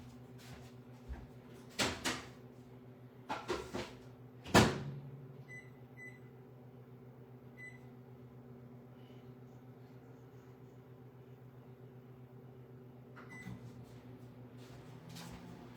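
A kitchen microwave oven is loaded with several door and latch clunks and a few short beeps, then settles into a low, steady running hum with another beep near the end.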